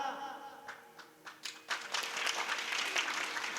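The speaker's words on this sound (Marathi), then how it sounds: "आता याच्यासाठी टाळी वाजवत होतो" An audience claps at a Marathi kirtan. The applause starts as a few scattered claps, then swells into steady, dense clapping across a crowd and keeps going to the end.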